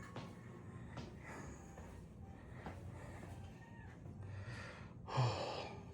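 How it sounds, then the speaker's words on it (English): A person breathes heavily after a long walk across the Disney World resort to a hotel room: quiet, close, repeated breaths, with a louder gasping exhale near the end. "You can hear me breathing like I just had to climb Mount Everest."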